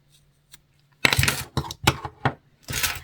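Scissors snipping crochet yarn ends on a small Halloween skull keyring, a quick series of close, crisp cuts in uneven rhythm after a near-silent start.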